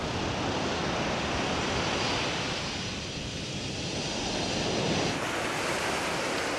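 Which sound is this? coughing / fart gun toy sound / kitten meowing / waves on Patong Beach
waves on Patong Beach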